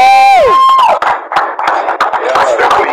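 A crowd at an event celebrating a $10,000 healthcare donation cheers and claps, loud bursts of shouting and scattered claps following a sliding vocal cry at the start.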